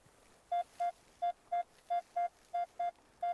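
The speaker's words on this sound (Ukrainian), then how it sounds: "Монетний сигнал." A metal detector sounds a steady series of nine short, clean electronic beeps, evenly paced and clearly audible over quiet field ambience while searching a field where an old forest tavern once stood.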